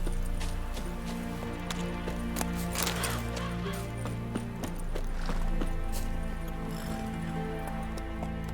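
A horse gallops in The Witcher 3, hooves drumming in a steady rapid rhythm, close and moderately loud over a constant ambient bed with occasional sharper knocks.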